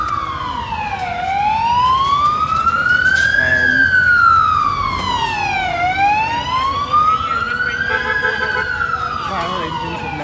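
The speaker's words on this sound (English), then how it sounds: "Fire engines are now responding." Fire engine sirens wail loud and close as trucks respond to a school fire, the tone sweeping slowly up and down in long continuous cycles; a voice briefly speaks over it.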